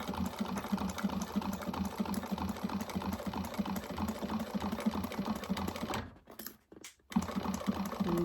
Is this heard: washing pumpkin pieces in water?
no